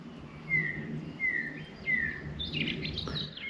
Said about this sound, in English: The only thing I hear is birds.